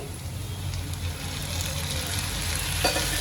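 Tomatoes going into a frying paneer bhurji mixture, heard as a steady moderate sizzle with a low background rumble and a brief clink near the end, with no talking.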